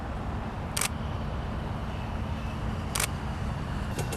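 Three sharp camera shutter clicks, spaced irregularly, over a steady low rumble of background noise.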